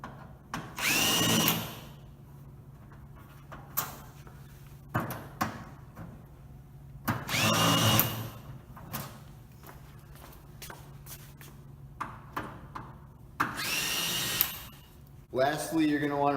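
Power screwdriver driving out T25 screws from a main actuator assembly, several short whirring bursts separated by pauses with handling clatter and shuffling between them, close and fairly loud.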